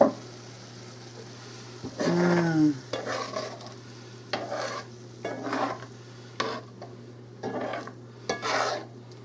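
Pasta and meat simmering in beef broth in a single pot are stirred with a utensil, giving several short scraping, sloshing strokes in an uneven rhythm over a steady low hum and a soft bubbling simmer.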